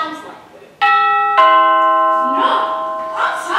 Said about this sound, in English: here's what a regular doorbell sounds like.